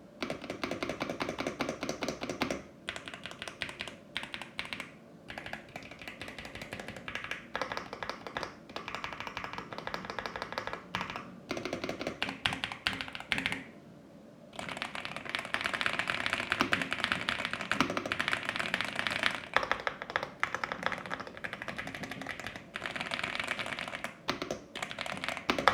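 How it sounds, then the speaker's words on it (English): Fast typing on a Yunzii AL65, a 65% mechanical keyboard fitted with linear switches, giving a dense, rapid stream of clacky keystrokes close up, continuous for many seconds with one brief pause midway. "Definitely one of the better speed typing experiences I've had in this size."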